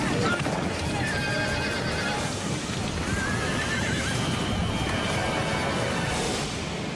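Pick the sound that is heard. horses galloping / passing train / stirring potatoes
horses galloping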